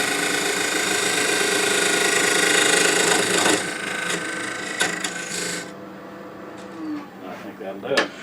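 A woodturning tool cuts a shallow dovetail recess into a spinning piece on the lathe, a loud continuous rasping scrape over the motor's hum that breaks off partway, leaving lighter scrapes and taps while someone talks.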